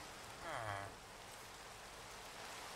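Rain patters steadily at night in a video game, a soft continuous hiss under a brief murmur of a voice.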